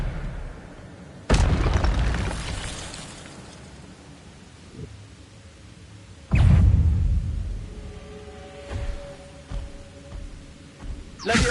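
In the video game Hogwarts Legacy, an Expelliarmus spell hits with two loud booming blasts a few seconds apart, each fading into a rumbling tail, followed by softer impact thuds.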